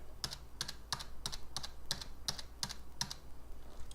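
Keys on a computer keyboard are pressed, Ctrl held with plus and minus tapped repeatedly, making about nine sharp, evenly spaced clicks, close and quiet, with no talk.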